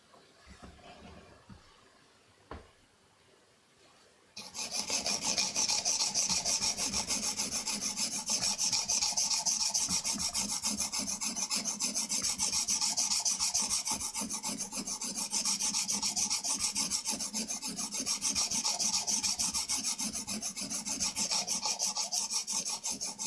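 Blade edge being filed to raise a burr, starting after a few seconds of quiet, then a continuous rapid rasping of close back-and-forth file strokes, loud and steady to the end.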